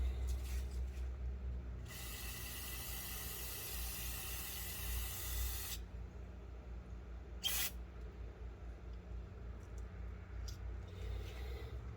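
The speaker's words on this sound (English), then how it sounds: "I think I'm going to spray it down with a little carb cleaner" An aerosol can of carb cleaner sprays onto a Yard Machine push mower carburetor in a long hissing burst of about four seconds, then a short second blast, close and loud over low background hum.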